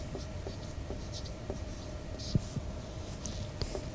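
Pen scratching steadily on paper while an arithmetic progression maths solution is written out, continuous soft scribbling with small taps and strokes over a faint hum, no talk.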